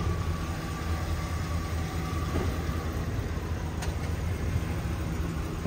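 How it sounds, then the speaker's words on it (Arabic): A 2011 Chevrolet Silverado 2500HD pickup truck being driven, its engine a steady low rumble with road noise heard from inside the cab. "الآن بنسوق السيارة."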